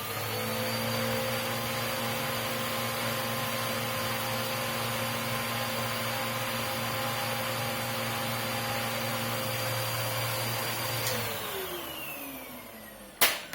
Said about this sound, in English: I'm going to turn on the vacuum.